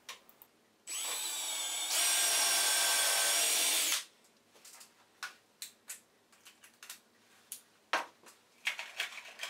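A power drill drives 1 1/4-inch screws into glued 1-inch wooden stock while a turning tool rack is assembled, with one sustained whir of about three seconds that climbs in pitch partway through, followed by a series of short knocks and clicks.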